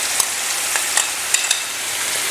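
Chicken frying in a pan for a Turkish-style dish, a loud continuous close sizzle broken by several sharp scraping stirs of a spatula, with no talking.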